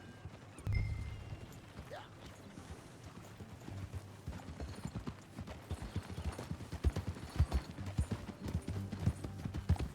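Horse hooves clip-clopping during a ride in the video game Red Dead Redemption 2, starting sparse and building into a steady close rhythmic gait, with quiet game noises around it.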